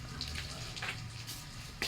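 Water pours steadily into a container in a continuous, moderately faint gushing flow with small splashy bursts, close by and without talking.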